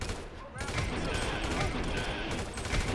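Rapid AK rifle fire from a gunfight in Grand Theft Auto V, a dense unbroken fusillade of shots running the whole stretch, loud and close with game sounds layered underneath.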